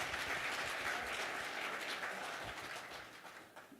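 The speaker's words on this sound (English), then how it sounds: "Let's give Brother Trevor a wonderful round of applause" Round of applause from the audience at a leadership dialogue event, a full, even crowd clapping that stays strong and slowly fades near the end.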